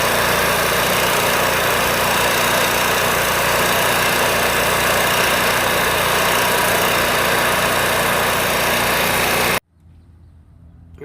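An Onan 4000 MicroQuiet generator with a leaking crankcase gasket runs at a loud, steady drone for several seconds before cutting off abruptly into near silence.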